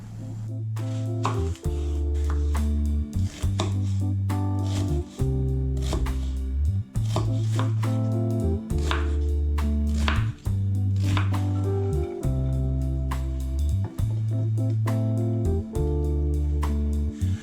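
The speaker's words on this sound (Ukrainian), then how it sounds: "Моркву нарізаю на брусочки" Steady knife chopping carrots into sticks on a board, rapid repeated cuts, heard beneath loud background music.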